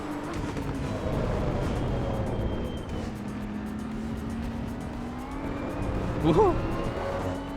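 GT3 race car in the racing game Assetto Corsa Evo, its engine droning steadily with shifting pitch and a brief tyre squeal near the end, while a voice cheers and speech runs underneath.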